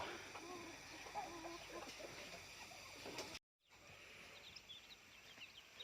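Mixed-breed chickens including native and Black Australorp types cluck softly alongside peeping newly hatched chicks on a farm, a steady low chorus with faint chirps, broken by a brief moment of silence.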